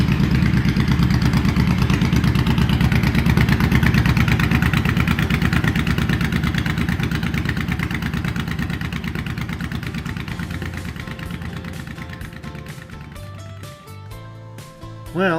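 A Honda VTX motorcycle idles steadily just after an oil change, a loud close low-pitched engine rumble that fades slightly over time before a brief blip near the end.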